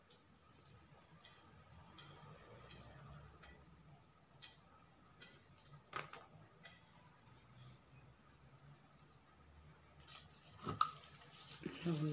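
Scissors make quiet, scattered snips while trimming material to decorate a gift basket for a special occasion, the light clicks spaced irregularly in a hushed room.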